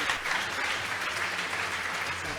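Steady applause from an audience, a dense wash of clapping at moderate distance throughout.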